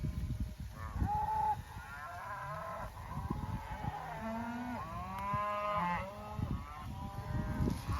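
Cattle in a drought-stricken pasture of eastern gamma grass, with a sheep flock following the mob, moo repeatedly in long, drawn-out, overlapping calls, some near and loud, others farther off, continuing through the whole stretch.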